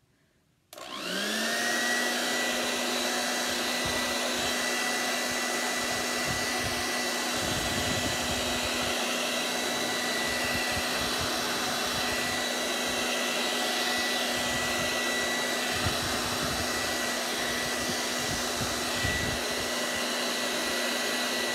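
A hair dryer on its cool setting blows over a chalk transfer, starting abruptly and then holding a loud, steady whir with a constant hum for the rest of the time, up close and alone.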